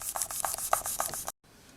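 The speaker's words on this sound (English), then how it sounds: "because I'm using cane slices, I am going to burnish it flat" Polymer clay cane slices are burnished flat in quick, close rubbing strokes, about a dozen brisk scrapes in a row before they stop abruptly.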